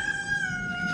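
A single drawn-out rooster crow rings close and clear, holding one steady pitch for the whole moment.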